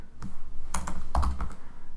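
Typing on a computer keyboard while entering plotting code: a few close, crisp keystroke clusters in an irregular rhythm over a steady background hum.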